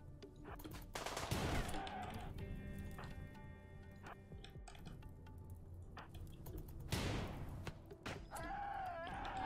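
Gunfire during a raid in the colony game RimWorld: rapid clusters of small-arms shots crackle in bursts amid steady game background noise, loud and continuous, with no talk.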